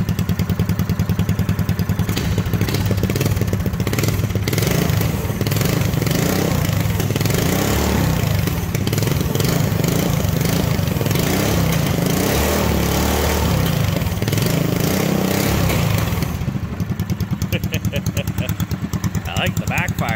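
Small four-stroke Briggs engine fitted to a Kitty Cat snowmobile runs loud and close, revving and chugging with a steady throbbing beat, easing toward idle near the end.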